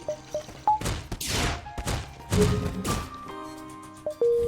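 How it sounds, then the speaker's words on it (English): Missile striking the ship in the space game FTL, several sharp explosive impacts and thuds in quick succession, loud and close, mixed with short electronic beeps. "Missile to the face."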